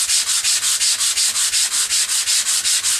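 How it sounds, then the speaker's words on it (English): Hand sanding with 100 grit sandpaper on a frame, a loud, steady back-and-forth rasp repeating about five strokes per second, close up and alone without speech. "this is 100 grit. You can use, start with 100 grit and work your way all the way up to whatever you want"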